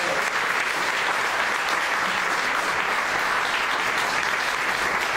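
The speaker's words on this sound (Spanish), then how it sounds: "Fuerte, palmas." A church congregation claps loudly and steadily during a worship service, dense continuous applause filling the room at close range for the whole stretch, with no clear voices above it.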